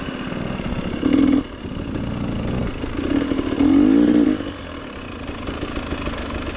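A GasGas EX250 dirt bike engine runs with a steady rough drone, with two short louder rev bursts rising above the idle.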